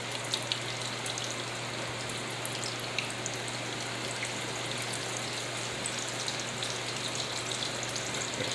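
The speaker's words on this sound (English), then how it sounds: "you're just gonna cook these basically until they're brown on both sides." Salmon patties fry in a pan with a dense, continuous crackling sizzle like light rain. It is close and even throughout, with no voices.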